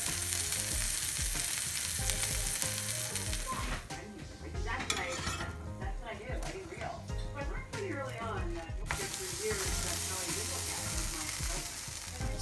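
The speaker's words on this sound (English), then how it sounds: "I've toasted one part of the bread" Bread toasts in a pan for a cheesy tuna sandwich, with a continuous crackling sizzle and occasional utensil clinks, while a voice talks over it.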